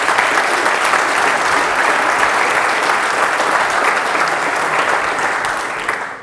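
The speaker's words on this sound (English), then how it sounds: "big round of applause for that" A conference audience at a software engineering event breaks into sustained applause after a talk, dense steady clapping from many hands that holds loud throughout and tapers slightly at the very end.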